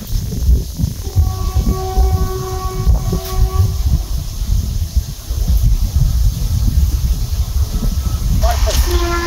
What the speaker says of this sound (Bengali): আর ওই যে পাশে ট্রেন যাচ্ছে।